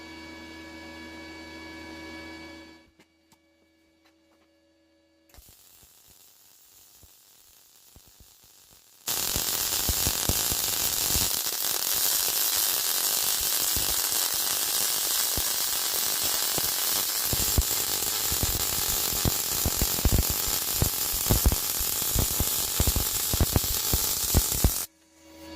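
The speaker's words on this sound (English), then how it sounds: "Okay, then I'll get started with the welding." MIG welding at 120 amps and 20 volts, with a steady wire feed laying a seam: after a short hum and a quiet pause, a loud, continuous crackling sizzle starts and runs unbroken for about sixteen seconds, then cuts off.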